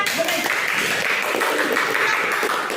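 A fifth-grade class of children claps for a group after its presentation, a continuous, moderately loud patter of hands that carries across the short span.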